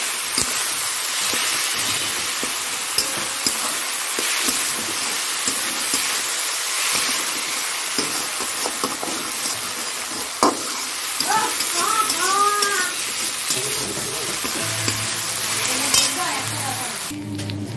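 Spices frying in a pan with salt and sugar, a continuous loud sizzle with scraping stirring strokes throughout, joined by a few faint chirpy sounds toward the end.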